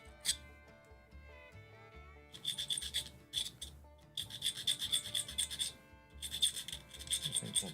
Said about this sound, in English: Just where I'm scratching it here and polishing it.